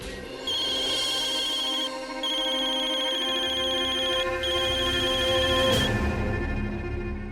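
A phone rings continuously with a steady, trilling electronic tone, loud and close, with no talking.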